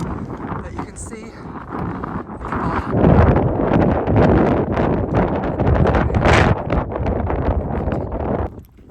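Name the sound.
strong wind on Mount Washington trail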